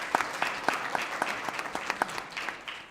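An audience at a judicial candidacy announcement claps steadily for a local township tax collector, with many hands producing a dense, continuous patter and a few sharper individual claps standing out, with no speech over it.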